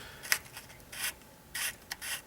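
Gator 220 grit sandpaper rubs over a 3D-printed rocket body tube in several short, raspy strokes with brief pauses between them, faint and close with no talking.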